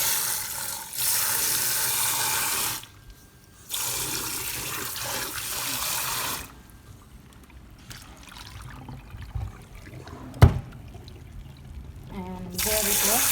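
Kitchen tap water running in bursts while lobster meat is washed: a steady hiss of flow that stops and restarts several times, with a clunk partway through.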